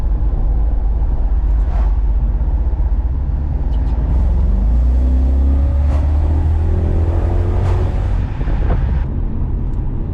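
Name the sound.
car engine while driving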